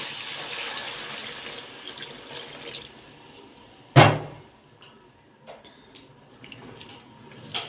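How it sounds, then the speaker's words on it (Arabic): Tap water runs steadily into a pot with a bright hiss, interrupted by a sharp clunk partway through, then continues more quietly with small clinks. "نحط بقى الميه، ميه من الحنفيه عادي"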